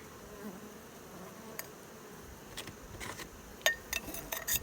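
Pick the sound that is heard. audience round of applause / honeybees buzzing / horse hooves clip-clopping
honeybees buzzing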